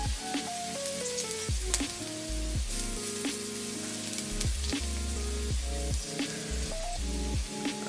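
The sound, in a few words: garlic sizzling in a pan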